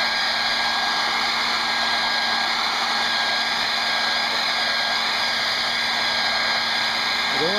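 A hair dryer blowing over a wet watercolor forest painting, a steady loud whirring hiss held at constant pitch throughout, close by, with no talk over it.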